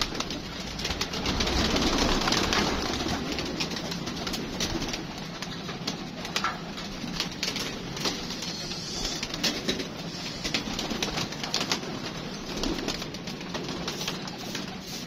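Pigeons coo continuously and close by as they are let out of a coop, with soft rustling and wing movement mixed in.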